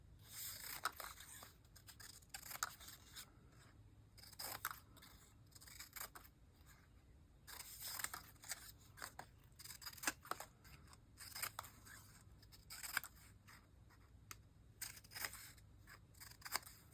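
Paper shapes being snipped out with scissors for an art journal, a steady run of close, crisp cutting strokes with brief pauses and rustling between them, no talking.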